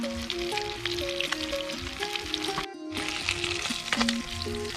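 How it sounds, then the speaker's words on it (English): Fish frying in oil at an outdoor riverside cookout, a steady broad crackling sizzle with scattered pops running throughout, broken by a brief near-silent gap midway, with faint tonal background sounds underneath. "So all of them finished frying now."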